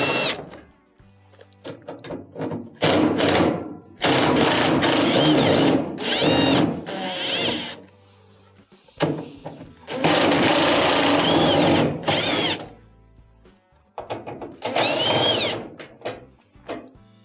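A power screwdriver backs Phillips screws out of the front panel of a GE dryer, running in several loud whirring bursts of one to two seconds with short pauses and clicks between them.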